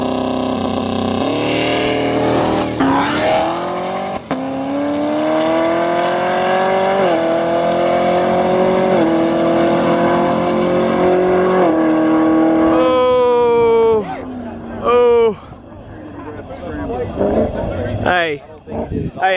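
Local street cars race on a street in Mexico, a silver Corvette among them, with loud engines revving hard through rising gear pulls and shifts before fading and roaring again near the end.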